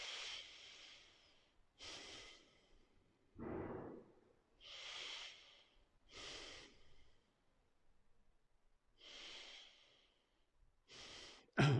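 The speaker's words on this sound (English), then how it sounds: "I hope you can hear me breathing because the mic is just under my nose." Deep yoga breathing recorded with a microphone right under the nose: slow, loud, close inhales and exhales alternate in a steady rhythm, separated by short pauses.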